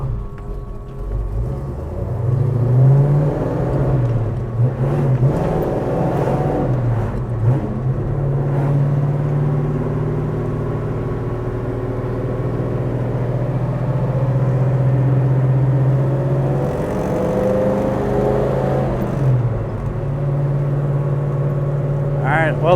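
A 1972 Chevrolet Chevelle SS with a 600 hp 496 cubic inch engine and 4-speed manual hums and revs steadily at close range as it drives, with someone talking over it.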